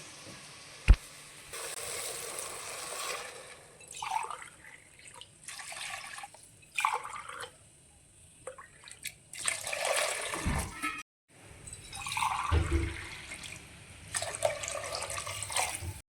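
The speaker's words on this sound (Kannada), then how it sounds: "ಹಾಗಾಗಿ 4 ಲೋಟ ನೀರನ್ನು ಹಾಕ್ತೀನಿ" Water poured from cups into a pan while cooking upma, several separate gushing pours splashing and trickling in bursts, close by and fairly quiet.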